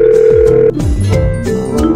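A cartoon telephone rings in short, loud, bouncy electronic bursts mixed with playful musical tones, lasting about two seconds with no speech.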